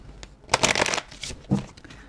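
Tarot cards are shuffled by hand at close range in a few quick riffling bursts, with crisp papery flutters separated by short pauses.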